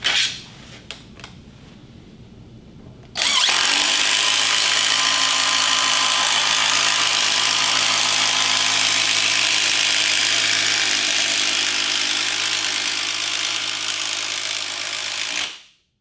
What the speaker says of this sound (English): I want to run self-tapping sheet metal screws into this piece of metal